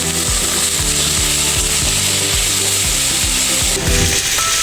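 Shrimp, salted and coated with turmeric, fry in a pan with a dense, loud, continuous sizzle. A repeating mechanical whir or ratchet-like rhythm runs underneath, and no one speaks.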